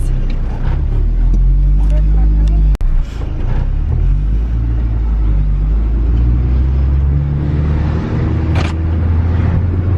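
A Mini Cooper R53, just back on the road after front suspension repair, drives along with a steady, loud low engine and road rumble heard from inside the cabin, broken by one sharp thump near the start.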